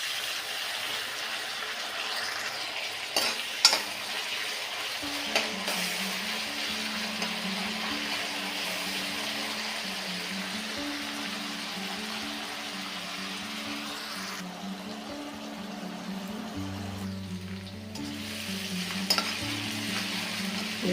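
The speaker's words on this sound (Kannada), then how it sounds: "ಈರುಳ್ಳಿ ಟೊಮೊಟೊ ಫ್ರೈ ಆದವು" Onion and tomato sizzle steadily in a pan while a spoon scrapes and stirs through them, a continuous close frying hiss with occasional knocks and a low hum near the end.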